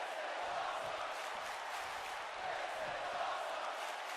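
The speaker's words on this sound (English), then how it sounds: "And you can hear the crowd here." Wrestling crowd roaring steadily in an arena during a high-flying match, a dense, continuous wash of cheering and shouting that stays loud throughout with no pauses.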